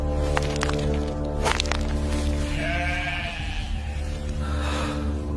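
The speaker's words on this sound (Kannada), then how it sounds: "ಪದ್ಮಗೊಂಡನೆ, ನಿನ್ನ ಪರಿಶ್ರಮದ ಫಲವಾಗಿ ಈ ಕುರಿಗಳು ಉದ್ಭವವಾಗಿವೆ." Sheep bleat in a wavering call or two over a steady, loud bed of background music, with sharp crackling hits in the first seconds.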